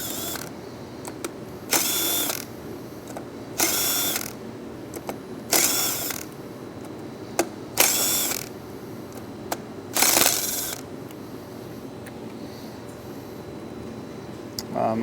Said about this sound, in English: So these 6 bolts will be what we need to remove to start accessing the inside of the clutch.